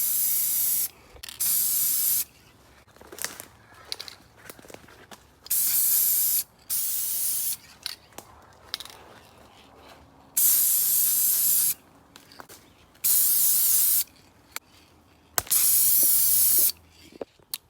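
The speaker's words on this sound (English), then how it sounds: "start spray painting these smaller trees that are going to be taken out" A spray paint can hisses in several short bursts in the woods, marking small trees, each a second or so long, separated by quiet pauses and faint rustling.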